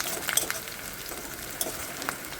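Onion, garlic and green chillies fry together in a pan at a home kitchen, a continuous quiet sizzle with small crackling pops and occasional stirring scrapes throughout.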